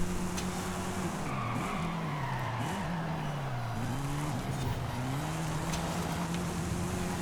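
Race cars grind and bump through corners in the Forza Horizon video game, engines droning under continuous tire squeal with wavering pitch and the occasional jolt of contact, at a fairly low level.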